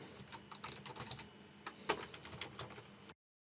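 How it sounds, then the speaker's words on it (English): A search phrase is typed quickly on a computer keyboard, with close, quiet clicking keystrokes in a fast, uneven run and a few louder taps, stopping abruptly into silence near the end. "So I might type in relaxation music for sleep,"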